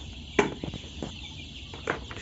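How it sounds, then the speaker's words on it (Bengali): Sonali breed chicks on a poultry farm give a few soft clucks and peeps, scattered short calls over quiet farm background. "সোনালী মুরগির বাচ্চা"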